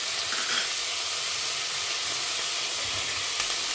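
Cauliflower and beans sautéing in a pan for a one-pot quinoa gobi dish, giving a steady, loud, even sizzle and hiss throughout with no talking.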